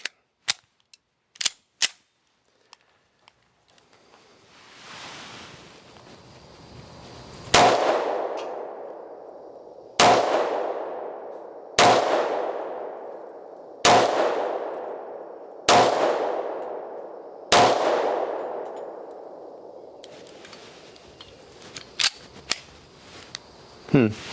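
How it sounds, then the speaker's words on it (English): Six loud 10mm shots from a Kimber Rapide pistol loaded with Blazer ammunition, fired at a steady pace about two seconds apart, each with a sharp crack and a long ringing tail, plus small clicks before and after. "We'll start with the Kimber, and we'll start with the Blazer ammo."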